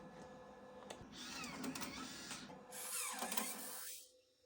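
A floppy disk ejects from the drive of a Macintosh Classic II, a raspy mechanical whir with ratcheting clicks in two bursts, close and faint before it stops.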